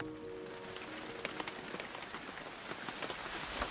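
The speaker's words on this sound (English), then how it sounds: "it's just started raining" Light rain starts falling outdoors, a steady patter of raindrops on surfaces with scattered sharper drips, even and close all the way through, with no voices.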